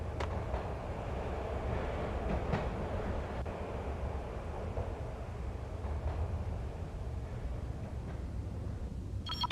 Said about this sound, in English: I'd have to get it back on to get the train moving.